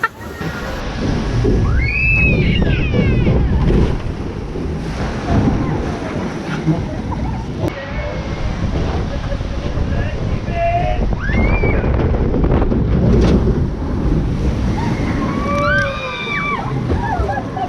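The Diamond River water ride at Legendia park: rushing, sloshing water and wind buffet the microphone continuously, with excited voices and brief shouts scattered throughout.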